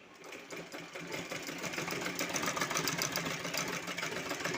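A sewing machine stitches a small piece of fabric, its fast rhythmic needle chatter building slightly in loudness and running steadily throughout, close by and alone without speech.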